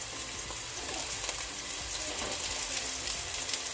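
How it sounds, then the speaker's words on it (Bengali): Three chopped onions frying in a hot pan while cooking an Old Dhaka style iftar at home, a steady close hiss and crackle of sizzling oil that continues evenly throughout. "পেঁয়াজটাকে একটু ভালোভাবে ফ্রাই করে নিব একটু সময় নিয়ে"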